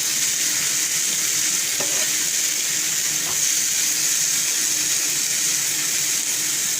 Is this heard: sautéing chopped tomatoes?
yes